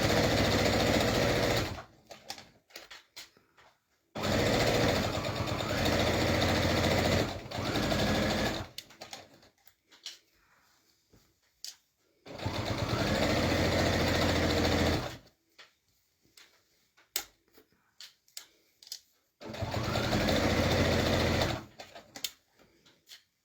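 A sewing machine runs a straight stitch through a layered pillowcase in four steady bursts of about three seconds each, close and loud, with quiet gaps between them.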